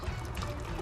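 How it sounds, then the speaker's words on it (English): Faxe beer pouring into a stein, a steady close liquid splash and trickle with no talk over it. "Pour it to the side."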